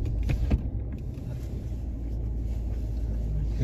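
Steady low rumble inside a car riding through Los Angeles's Skid Row at night, a continuous, close engine and road drone with a brief soft knock near the start, no talk.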